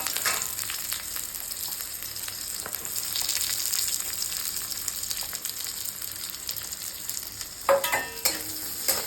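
Chopped onion fries in a pan with a steady, crackling sizzle, close and continuous, and a few sharp scraping clinks of a spoon toward the end.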